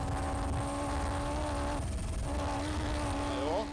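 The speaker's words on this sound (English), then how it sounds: "you can even hear the sound of the beautiful Ford Ranger from the helicopter" A Ford Ranger rally truck engine gives a steady, droning roar with sustained harmonic tones, heard from a distance from a helicopter over a broad wash of rumbling noise during the Morocco Desert Challenge.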